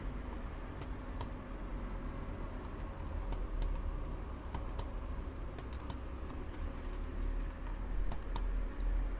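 Sharp, isolated computer mouse clicks, fairly close, come singly and in quick pairs at irregular moments over a low steady room hum, with no talking.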